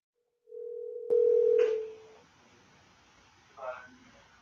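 A telephone tone after a call: a steady tone starts, then a louder tone comes in and cuts off abruptly, followed by a quiet stretch with a short muffled bump near the end.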